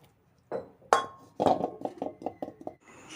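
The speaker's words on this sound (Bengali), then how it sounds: "এইবার আমি ডাল কাটার সাহায্যে একটু আলুগুলোকে ঘেঁটে দেবো" A dal masher mashes boiled potatoes and greens for a leafy-greens chorchori in a pot. A quick series of close metallic knocks and clinks comes in a steady, repeated rhythm.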